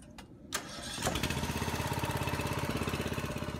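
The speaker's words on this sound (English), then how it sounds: "All right, if you'll crank that machine" A small engine-driven machine used to jack up a settling outdoor fireplace is cranked, with a couple of sharp pulls, then it catches and settles into a steady rhythmic chugging idle, fairly close.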